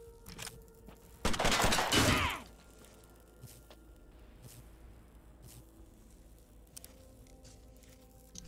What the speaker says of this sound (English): Wow, that was a huge explosion.